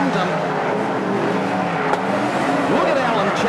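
Speedway race cars, including the 78 car, lap a slick dirt track, their engines blending into a steady loud roar with a brief pitch sweep of one car passing near the end, under a commentator's voice.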